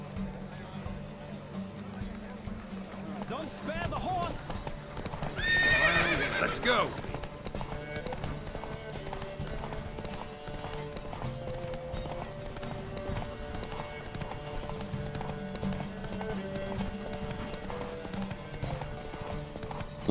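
Horses gallop in a race in the video game The Witcher 3, with steady rhythmic hoofbeats and a loud whinny partway through, while voices talk over the action.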